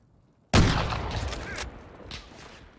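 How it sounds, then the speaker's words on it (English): Video game gunfire from a jumping player: a loud, sudden shot starts a dense burst of firing with a second salvo and a later, weaker crack, all close and with no talk. "I'm jumping and taking a shot at him."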